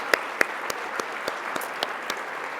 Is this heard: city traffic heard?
no